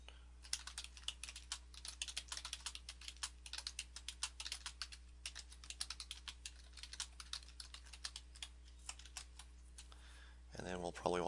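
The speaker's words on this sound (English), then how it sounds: "You can put something in here simply by typing in" Rapid typing on a computer keyboard, with a steady stream of sharp, close keystroke clicks in irregular bursts. A voice begins speaking right at the end.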